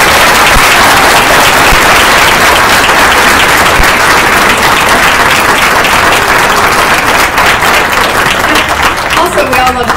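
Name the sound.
final round of applause for Jaleesa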